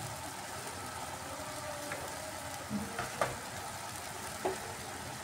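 Spinach sautéing with turmeric, cumin and coriander powder and green chillies in a pan for dal tadka, with a soft, steady sizzle and a few light knocks from stirring, no talking.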